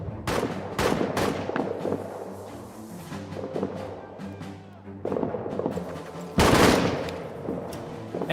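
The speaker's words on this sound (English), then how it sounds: "We got some people shooting." Bursts of machine-gun and rifle fire crack through a World War I trench battle in the game All Quiet in the Trenches, with irregular volleys near and far, a heavier loud burst late on, and faint background noise between shots.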